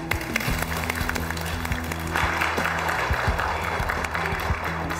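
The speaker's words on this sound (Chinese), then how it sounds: "我们把掌声送给张董事长。" Audience applause at a company event, sustained dense clapping from a crowd filling the room throughout, steady and fairly loud with a brief swell midway.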